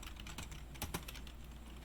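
Keys on a computer keyboard clack in a quick, irregular run of soft taps while network settings are being entered, fairly faint and close, with no talk.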